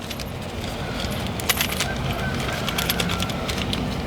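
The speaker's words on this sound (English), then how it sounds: "I'm going to use the hardware that came with the braided brake lines." Metal brake line hardware and washers for braided brake lines on a Civic, handled with scattered light clinks and jingles over low background hum, a sharper tick near the middle.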